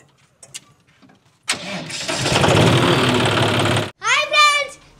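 A tractor engine cranks and catches with a loud burst, then runs steadily and close, cutting off before a voice rises briefly at the end.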